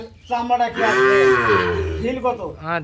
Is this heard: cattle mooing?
yes